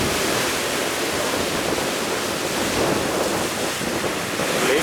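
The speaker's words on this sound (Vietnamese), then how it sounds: "Gió rung màn hình luôn các bạn." Strong wind buffets a boat at sea amid crashing waves, a loud continuous roar of gusting air and rushing surf that stays steady for several seconds, with no voices.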